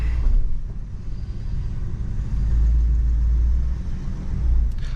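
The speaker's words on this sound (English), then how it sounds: "Not bad for an old land yacht, y'all. Let's go for a ride." A 1968 Chevrolet Impala rolling down a road, heard from inside the cabin as a steady low engine drone and road rumble that swells slightly as it gathers speed, with no talk.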